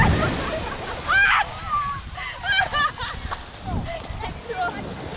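Cold ocean water sloshes and splashes around bare feet in the shallow surf at Malibu Beach, a soft, broken wash sitting under excited voices, yelps and laughter close to the microphone.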